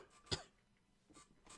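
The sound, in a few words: voice imitating a cough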